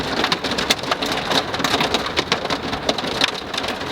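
Pea-size hail rattles down and bounces off a barbecue grill outdoors, a steady dense patter of sharp ticks and pings over a rainy wash, close and continuous without speech.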